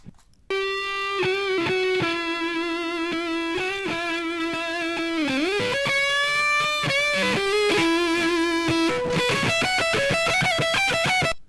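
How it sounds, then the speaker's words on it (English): Harsh distorted tone from a distortion effect in Adobe Audition, steady buzzing harmonics over a melodic line that bends and shifts pitch, continuous and loud with no talking. "We just distorted the distortion even more."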